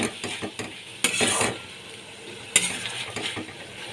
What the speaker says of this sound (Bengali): ভালো করে কষিয়ে নিচ্ছি এক চামচ কাশ্মীরি লঙ্কার গুঁড়ো দিয়ে দিলাম